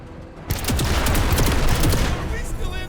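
Sustained rapid chain gun fire from a vehicle in the tactical video game MENACE, a loud dense burst of shots starting abruptly after a brief quiet moment and rattling on for over two seconds before tapering off.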